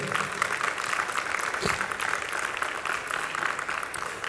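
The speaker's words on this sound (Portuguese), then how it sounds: "aplauda o Senhor Jesus bem forte aí" A church congregation claps together in a steady, dense wash of applause that carries on throughout without letting up.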